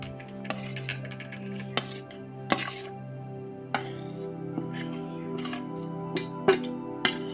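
Cooled cooked food is spooned into a steel mixer jar, giving scattered sharp metallic clinks and scrapes, several distinct taps spread out over a quiet kitchen background.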